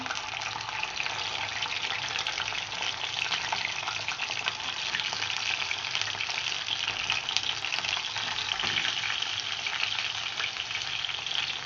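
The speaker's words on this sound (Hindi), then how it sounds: "तो मैं अब ये मटन डालूँगी" One kilo of mutton dropped into hot oil for a mutton karahi, frying with a loud, steady, dense sizzle and crackle that holds evenly throughout, close and without voices.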